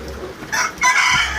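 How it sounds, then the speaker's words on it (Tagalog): A rooster crows loudly and close by, one short burst standing alone with no voices over it. "ito mga manok ko"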